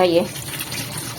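Water pours and splashes as fresh greens are rinsed in a mesh basket, a short steady wash heard close up while someone speaks over it.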